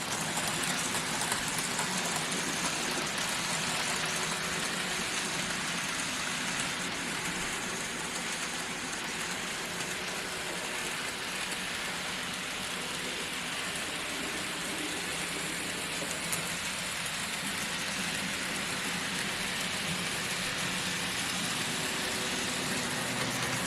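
A Dapol BR Class 43 model train running laps at higher speed, giving a steady, even whirring rumble that stays constant and fairly quiet throughout with no talking.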